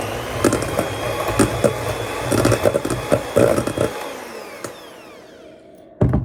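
A kitchen blender whirring through cream of mushroom cookie dough, a steady loud motor drone with knocking bursts, winding down and cutting off, then briefly restarting.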